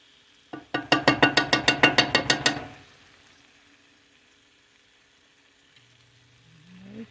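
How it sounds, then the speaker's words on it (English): An egg mixture is poured into a hot pan where spinach is already cooking, giving a burst of rapid, rhythmic crackling sizzles for about two seconds that then fades to a quiet hiss. "we're going to put the egg mixture in."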